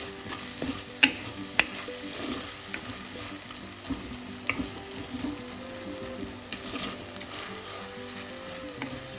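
Kerala-style seabass curry masala, with a small piece of mango, sautéing in oil in a pan: a steady, close sizzle and frying hiss broken by occasional sharp spoon taps and scrapes, with no talking.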